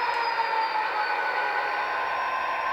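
A model train on a home layout of the Katy Railroad backs into the yard and couples to a boxcar, giving a steady, close mechanical rumble and whir that holds evenly throughout with no voices.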